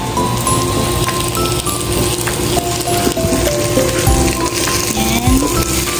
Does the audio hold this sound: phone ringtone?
no